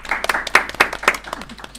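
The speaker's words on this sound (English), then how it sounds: "Can I give her a big round of applause, please?" An audience at a live improvised Dungeons & Dragons show claps for the BSL interpreter, sparse individual hand claps rather than a full ovation, with some talk mixed in.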